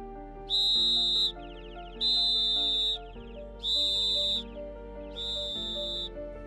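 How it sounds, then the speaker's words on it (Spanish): Four long, steady, piercing whistle blasts at a high pitch, each about a second long, with short gaps between them over a low hum, at a silent vigil for cyclists killed on the road. "Silencio roto por el pitido hueco de un silbato"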